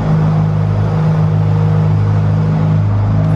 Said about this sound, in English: I can hear another Ferrari up there starting up.